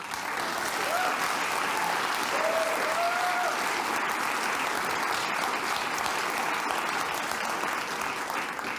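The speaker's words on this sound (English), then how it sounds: "That line will get you an applause break from all sides." A studio audience at Bill Maher's talk show breaks into sustained applause, an even, dense roar of clapping with a few shouts rising through it, holding steady throughout.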